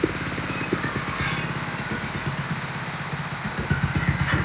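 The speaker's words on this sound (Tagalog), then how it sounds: "Tahimik makina." A motorcycle fitted with a JBT B3 titanium exhaust, still early in its break-in period, idles close by with a steady, rhythmic putter and a low, even engine throb throughout.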